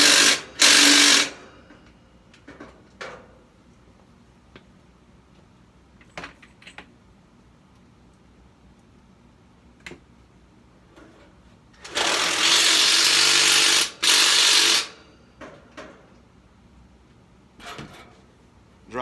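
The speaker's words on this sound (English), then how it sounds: "drive in our anchors there" A power drill drives masonry screw anchors, similar to Tapcons, into pilot holes, with two loud sustained bursts of whirring near the start and middle, and short clicks and taps between them.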